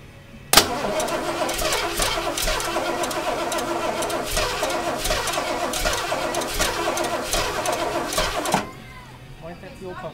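Ford Bronco engine cranking and catching, then running at a steady rough idle for about eight seconds with the throttle cracked slightly before cutting off, loud and close.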